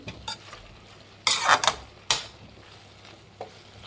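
Grated dry coconut being stirred into vangi bath, a spiced rice dish with brinjal, in a pan: a few scraping, rustling stir strokes in bursts over a faint background, without speech.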